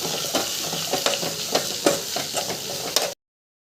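Onion with ginger and garlic paste sizzling in a hot pan with periodic scraping and stirring strokes, a steady fry close by, then abrupt silence.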